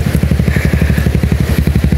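A motorcycle engine running close by with a fast, steady low-pitched putter and rhythmic thumping pulses, loud and continuous with no talking over it.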